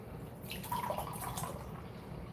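Water poured from a cup into another container, a soft close trickle with brief drips over a quiet room background, lasting a couple of seconds.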